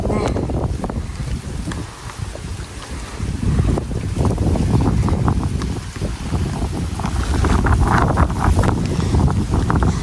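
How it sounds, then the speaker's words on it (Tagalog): Strong gusts buffet the microphone over open water, with rushing wind noise rising and falling alongside faint splashing and a boat's rumble. "Grabe po, mahangin."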